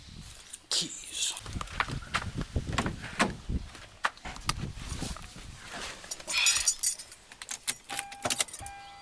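Keys jangling and clinking in short bursts during a Lexus GS300 oil change, mixed with handling noises, footsteps and car door sounds, fairly close.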